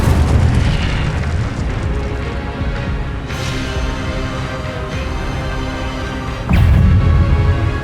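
Incendio fire spells cast in Hogwarts Legacy, a loud continuous roaring blast of fiery booms and whooshes, with a sharp burst near the start and a heavier eruption toward the end, close and dense without any talk.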